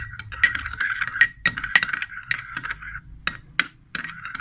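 Homemade vitamin E serum being mixed in a small glass container, giving repeated light clinks and taps of a utensil against the glass in an irregular rhythm, close and fairly clear with no talking.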